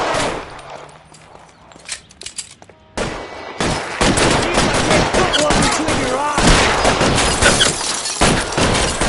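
Heavy gunfire erupts in the video game LA Noire, a loud, sustained fusillade of rapid machine-gun and pistol shots, brief sparse shots first, then continuous close bursts filling the scene.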